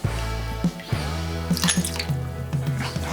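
Liquid bubbling on an aluminium part soaking in a hot 80-degree bath makes close, irregular drips and plops scattered over a low background, with no voices.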